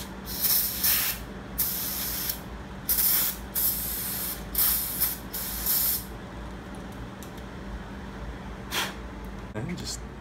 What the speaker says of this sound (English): I'm just going to use brake cleaner to clean it.